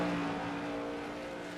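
Race cars roar past on a track at Myrtle Beach, a steady engine whine holding for a moment at moderate distance.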